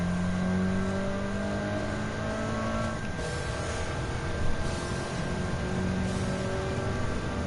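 Suzuki Jimny engine in Gran Turismo 7 drones steadily as it races, a constant mid-pitched hum with faint rising and falling revs, no voices over it.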